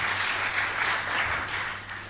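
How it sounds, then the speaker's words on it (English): An audience at a BelTech 2014 conference talk applauds, a dense steady wash of many hands clapping that fades slightly at the end. "Give Tom a round of applause there."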